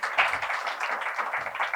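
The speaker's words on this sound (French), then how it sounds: "vous pouvez l'applaudir" An audience at a round-table discussion applauds an introduced panelist, giving a short burst of fairly close, busy hand clapping with an uneven patter that stays steady throughout.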